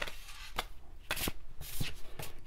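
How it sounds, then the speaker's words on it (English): Tarot cards are shuffled in several quick riffling bursts, close and crisp, with brief pauses between them. "I'm gonna shuffle for the next one."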